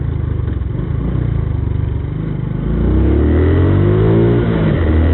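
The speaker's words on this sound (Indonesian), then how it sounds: "Ini ada mobil nih." A car engine revs loudly nearby at a street brawl scene in Banyumas, Indonesia, its droning note climbing and sweeping as the vehicle accelerates past.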